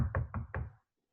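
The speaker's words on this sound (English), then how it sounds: "I'm going to knock on my table" Four quick knocks on a table, sharp and close in an even rhythm, followed by silence.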